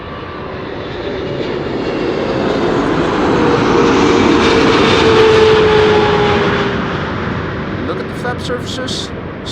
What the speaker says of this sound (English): 777-300 KLM flight 872 arriving from Delhi in India